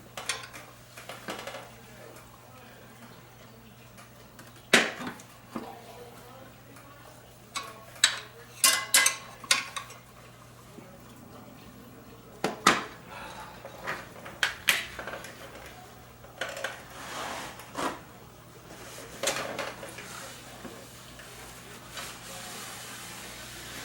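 A tire spoon levering a Maxxis Desert IT tire onto an 18-inch Warp 9 Elite rim fitted with TUBliss, giving sparse, quiet metallic clicks and clinks spread across the clip, with occasional sharper knocks.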